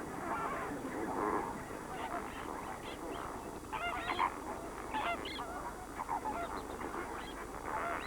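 Flamingo flock calling at Lake Nakuru in Kenya: many honking, goose-like calls overlap in a dense, continuous chorus that stays fairly distant, with occasional louder nearby honks standing out.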